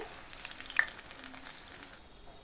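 Egg devils frying in oil, a steady close crackling sizzle with sharp pops scattered through it, easing slightly toward the end, no voices.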